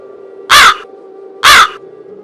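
Two loud, harsh crow caws ring out about a second apart in a cartoon city scene, each short and close, with quiet background between them and no talking.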